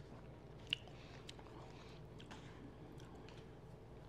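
Crunchy crinkle-cut French fries from a Sonic Drive-In being bitten and chewed close to the mic, with one sharp crunch near the start and then soft, quiet chewing.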